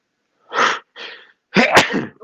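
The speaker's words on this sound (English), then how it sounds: "I got to sneeze" A person sneezes close by, starting with a couple of sharp catching breaths and ending in one loud explosive burst with a brief trailing sound.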